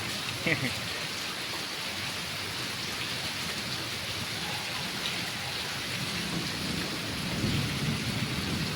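A dense, constant roar of heavy rain over Ahmedabad, close and even, with a brief faint voice early on and a slight swell near the end.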